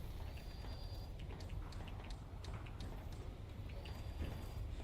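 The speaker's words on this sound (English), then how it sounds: "I heard footsteps." Footsteps in a video game clopping along in a steady patter over a dense background bed, moderately close and continuous, without talk.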